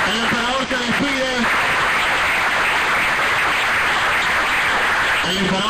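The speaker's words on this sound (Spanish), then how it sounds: "Un fuerte aplauso con Eustaquio!" A crowd at a live event breaks into loud, sustained applause that fills several seconds as a dense wash of clapping, framed by a voice speaking just before and after.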